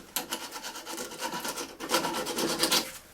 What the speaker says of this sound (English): put it down the edge of there, and then just rubbed it backwards and forwards